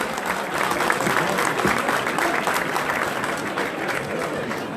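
A ceremony audience applauds to welcome the CEO of Tunisie Télécom, steady, full clapping from a large crowd that continues evenly throughout.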